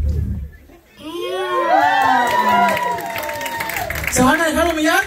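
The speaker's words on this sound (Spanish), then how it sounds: "de aquí para allá la gente aplaude" Party audience at a baptism celebration clapping, cheering and whooping loudly together, children's shrill shouts rising over the steady crowd roar, with an emcee's voice mixed in.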